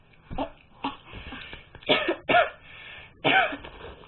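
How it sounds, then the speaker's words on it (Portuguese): Several harsh coughs come in uneven bursts, some single and some doubled, close up against a quiet background. "Nossa, tosse pra caramba."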